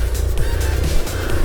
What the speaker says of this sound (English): I think some vehicle is there.